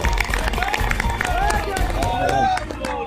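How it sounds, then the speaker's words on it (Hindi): Audience applause and cheering at a Hindi poetry gathering (kavi sammelan) honouring railway Covid warriors, a dense crowd of clapping hands with voices calling out over it throughout. "एक बार जोरदार ताली बजाइए।"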